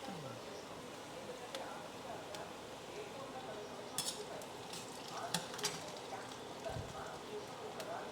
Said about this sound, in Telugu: ఇప్పుడు ఆలు ఫ్రై చేస్తా ఉన్నాం